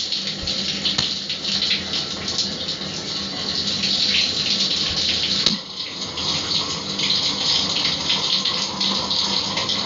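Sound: water running in a shower

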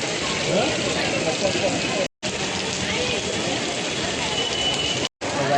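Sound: rain falling

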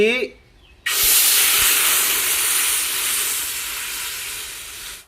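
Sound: coconut milk sizzling in hot pan

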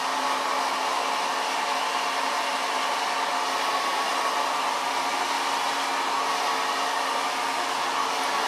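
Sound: hair dryer blow drying hair with a large brush

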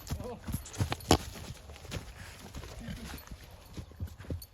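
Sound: horses walking, hooves clip-clopping

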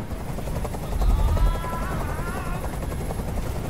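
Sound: helicopter in a video game

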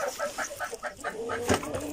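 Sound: Brahma chickens clucking

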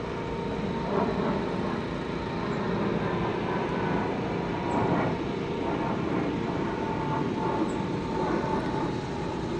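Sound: airplane flying over Prospect Park

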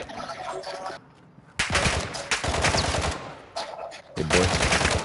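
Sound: gunfire, from video game Call of Duty Warzone DMZ

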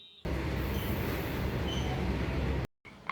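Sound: train arriving at Rampurhat station

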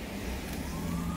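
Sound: emergency vehicle sirens outside

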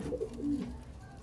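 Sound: pigeons cooing at loft with newly hatched chicks

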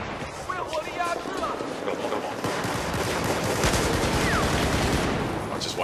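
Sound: gunfire in the video game Battlefield 4

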